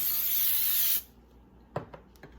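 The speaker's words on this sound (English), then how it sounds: "Make sure you spray your pan real good." Cooking spray hisses steadily onto a muffin pan for cornbread muffins, a loud close spray lasting about a second, followed by quieter light clicks and taps.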